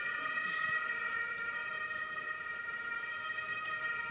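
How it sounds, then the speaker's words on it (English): A police siren wails at a distance outside a conference room, a steady sustained tone that holds at a moderate level throughout, with faint room noise and a hint of voices underneath. "the police siren is going on"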